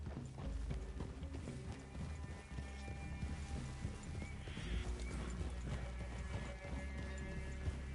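Several horses clip-clop along through a forest clearing, hooves thudding steadily close by, with an occasional whinny and faint creaks of tack, no clear speech.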